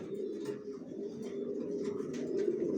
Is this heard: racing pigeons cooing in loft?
yes